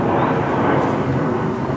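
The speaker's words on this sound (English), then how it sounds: "I hear an airplane and I don't see it" Out of sight above a mountain hiking path in Japan, an airplane passes as a loud, broad, steady roar that fills the whole short stretch without a break.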